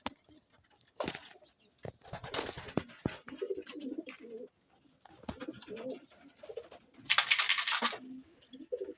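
Pigeons in a breeder loft coo in repeated low phrases, with occasional brief wing flaps and a louder rustling flurry near the end, close by and with no talking.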